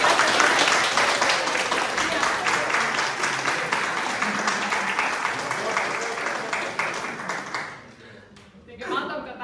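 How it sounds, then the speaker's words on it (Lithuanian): Audience applause at a live evening event, dense sustained clapping from a crowd that fades out toward the end as a voice begins speaking. "lygiai taip pat gausiais plojimais pasveikintume svečius, kurie čia yra pirmą kartą"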